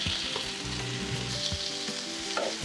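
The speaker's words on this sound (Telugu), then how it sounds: "పొట్టలు పగులుడు అంటే లైట్గా ఆయిల్లో వేయించేటప్పుడు ఇట్లా పగలడం స్టార్ట్ అవుతాయి" Broad bean seeds fry lightly in oil in a pan, a steady close sizzle with small crackles as the skins split and occasional stirring scrapes, quiet and with no talk.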